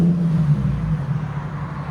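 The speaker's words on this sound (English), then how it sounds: "we got a 370Z with a rear muffler delete" A Nissan 370Z with its rear muffler deleted holds a deep, steady exhaust drone, loud and close with a slight waver throughout and no talking.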